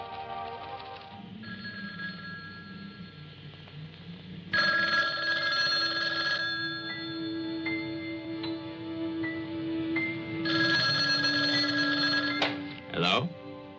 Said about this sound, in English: How about that telephone up at the Butler house? Is it working? Well, try it now.